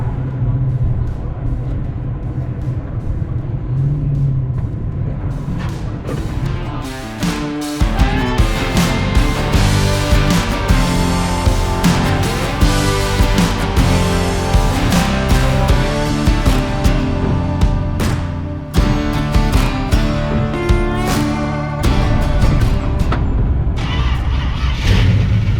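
A Plymouth Belvedere engine with a suspected bottom-end knock revs loudly and close, with a rough rumble and rapid ticking clatter running through it. Voices talk faintly underneath.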